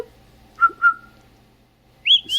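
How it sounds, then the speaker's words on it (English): Two clear rising whistled notes sound close and alone, then after a pause a longer sliding whistle follows, the eerie two-note call of the Silbón legend. "it's a two-note whistle"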